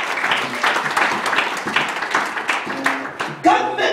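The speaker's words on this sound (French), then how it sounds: "Give nice applause to the Lord." A church congregation applauding, a dense run of clapping at moderate distance over a room murmur, with a voice speaking briefly near the end.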